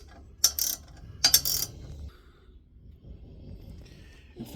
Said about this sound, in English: Use a ratchet to tighten them down.